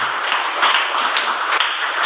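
Dense applause from a church congregation during a Telugu sermon, steady rapid clapping filling the whole stretch at close range with no voices over it.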